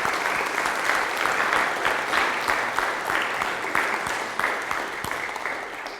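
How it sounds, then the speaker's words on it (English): Congregation at a youth church gathering giving a round of applause, dense sustained clapping from a sizeable crowd, steady and fairly loud, easing slightly near the end. "show your appreciation for Josh with a nice round of applause for Josh Kirk."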